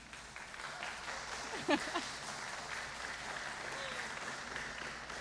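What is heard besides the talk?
congregation applauding Fallon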